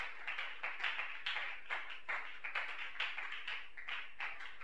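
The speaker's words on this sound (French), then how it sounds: "Applaudissons pour le roi des rois." Rhythmic group clapping in a church service, quiet and fairly distant, with evenly spaced beats pulsing steadily throughout.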